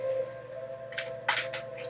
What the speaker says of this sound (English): Shuffle my cards up here for a minute.